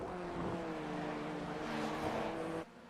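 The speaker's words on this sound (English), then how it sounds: "Listen to the engine work" Race car engine in a racing video game, a steady buzzing tone with stable harmonics holding for over two seconds at low level, then cutting off abruptly near the end.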